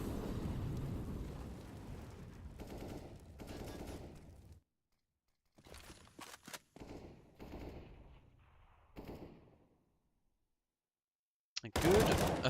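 A grenade bursts during a competitive CS:GO match, set among short sharp gunfire bursts with silent gaps between them and a loud blast near the end, under commentary.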